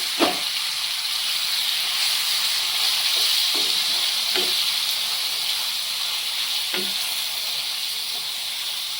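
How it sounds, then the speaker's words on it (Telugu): Prawns frying in oil with ginger paste and turmeric, a steady bright sizzle with hiss and a few soft stirring scrapes, heard close and alone. "ఈ రొయ్యలు అనేవి ఆయిల్లోనే మంచిగా ఫ్రై అవ్వాలి."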